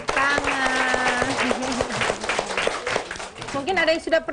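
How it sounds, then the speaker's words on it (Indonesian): Children in a classroom in Papua clap together in a burst of applause, mixed with a teacher's voice and kids' chatter throughout. "tepuk tangan."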